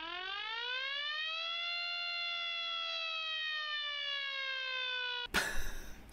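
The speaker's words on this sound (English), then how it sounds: "this 12 volt car air raid siren" A 12-volt car air raid siren winds up and holds a loud, steady wailing tone for about five seconds before cutting off abruptly into a short clatter.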